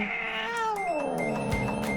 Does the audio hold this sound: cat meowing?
yes